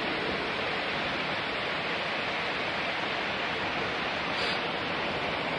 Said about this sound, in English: How do you feel about being at the waterfall?